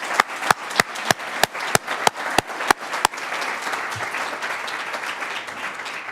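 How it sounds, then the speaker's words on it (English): Audience applause at an anniversary celebration in a speaker series, opening with a dozen loud, sharp, separate claps in a steady rhythm before blending into a dense, continuous wash of clapping from the crowd. "could I please have a round of applause for Kelly and her foundational work."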